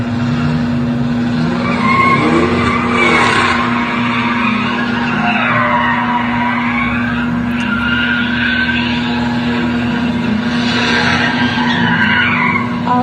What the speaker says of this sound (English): Watch the Dodge car there.